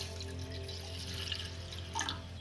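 Water pours steadily into a pan of gram flour and semolina roasted in ghee, a soft continuous rush over a low hum that swells briefly near the end.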